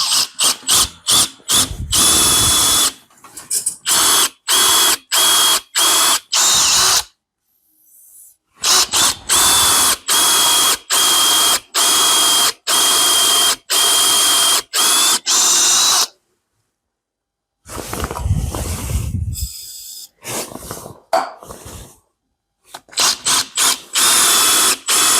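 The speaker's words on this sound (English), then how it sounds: "You should lift the drill a little bit. You're forcing it downwards now." Power drill bit boring into metal on a milling machine during restoration work, loud repeated bursts of whirring separated by brief pauses and two longer silences.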